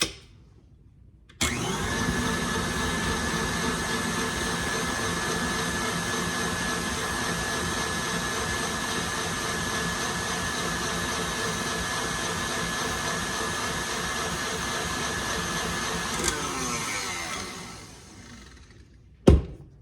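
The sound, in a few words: stand mixer with whisk attachment whipping tallow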